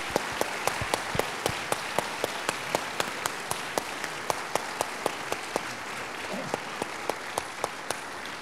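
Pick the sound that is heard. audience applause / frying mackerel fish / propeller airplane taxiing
audience applause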